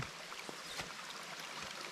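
Water trickling through a small stream channel in a rural hillside setting, a soft, steady wash of flow with faint splashes, fairly quiet and continuous with no talk.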